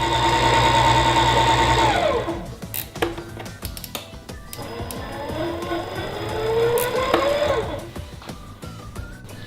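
Stand mixer running at low speed as it blends flour into cake batter: a steady motor whir with a rising and falling pitch, continuous and fairly close throughout.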